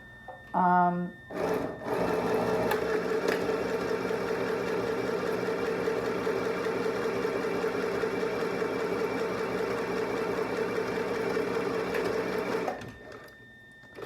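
A sewing machine stitches pant front pieces in one long, steady run of rapid mechanical whirring lasting about eleven seconds, close and loud, after a couple of brief starts and clicks.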